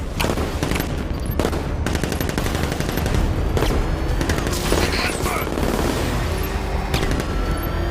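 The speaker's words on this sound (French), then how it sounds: "On tire dessus." Rapid gunfire in the video game Batman Arkham Knight, loud and continuous through the whole stretch, with bursts of automatic fire mixed with game noise and occasional voices.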